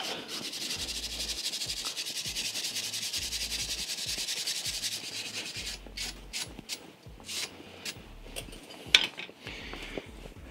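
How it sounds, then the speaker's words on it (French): A Renault Clio 3 wheel hub being scrubbed clean with a brush during a brake disc and pad change, giving close, continuous harsh rubbing that breaks into shorter, uneven strokes and a sharp knock near the end. "maintenant ton moyeu, tu viens le nettoyer"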